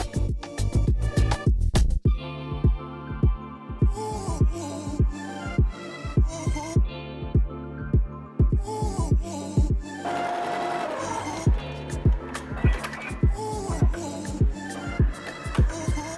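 A Smartstitch 1201 embroidery machine stitches a design onto a hat with a fast, steady mechanical clatter of needle strokes, close up, changing pace partway through as it keeps running.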